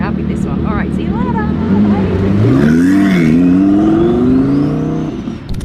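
A tuned Audi R8 supercar accelerates away hard, its engine note rising in pitch over a few seconds and staying loud and close, mixed with some talking, then fading slightly at the end.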